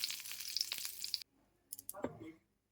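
Dried red chilies and black cumin sizzle in hot oil, a dense crackling hiss that cuts off abruptly partway through, followed by a few soft clicks and stirring noises.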